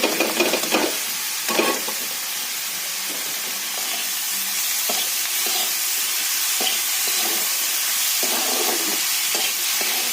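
Drumstick flowers with chopped green and red chillies frying in a pan with a little salt, a steady broad sizzle and hiss throughout with occasional stirring scrapes, no talking.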